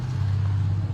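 A passing vehicle's low, steady engine rumble fills the brief moment, constant and fairly loud without speech on top.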